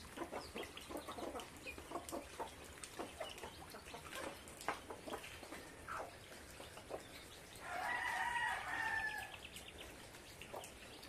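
Hens and a rooster cluck in a farmyard on a Sunday morning, with scattered short clucks throughout and a louder, close burst of rapid calling near the end.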